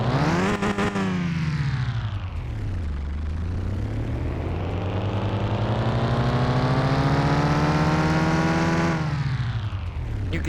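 A video game car engine revs up steadily, its pitch climbing and holding high before dropping back down, loud and close with no talking.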